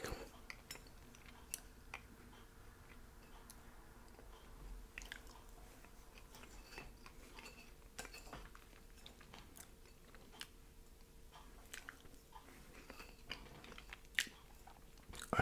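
Quiet close chewing of rich chocolate cake, soft wet bites and mouth sounds with occasional light clicks of cutlery, no talking.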